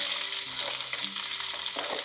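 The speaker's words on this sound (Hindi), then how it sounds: "मैं तड़का लगाना शुरू करने वाली हूँ" Tadka spices sizzle in hot oil, a dense continuous frying hiss with stirring, loud and close, with no voices.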